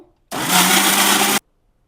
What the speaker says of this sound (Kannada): ಸೊ ಬಾಯ್ಲ್ ಮಾಡಿರೋವಂಥ ಸೋಯಾ ಚಂಕ್ಸ್, ಶುಂಠಿ ಬೆಳ್ಳುಳ್ಳಿ ಇದನ್ನು ಮಿಕ್ಸಿ ಮಾಡ್ಕೊಳ್ಳೋಣ